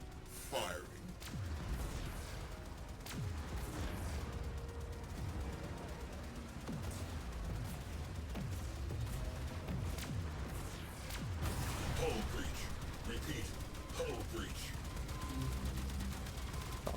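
Torpedoes launching in the Warframe video game, a dense run of booming, crackling blasts over about seventeen seconds, with a steady roar of game noise and scattered voice lines beneath.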